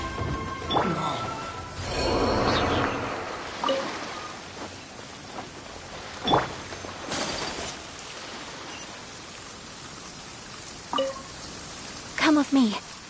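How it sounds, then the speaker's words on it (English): Steady rain falling in the Genshin Impact video game, a broad continuous hiss through the clip, with game voices and brief chimes and effects over it. "Let us find shelter from the rain."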